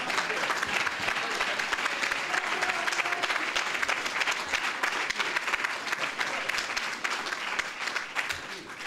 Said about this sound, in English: Give the brother a hand.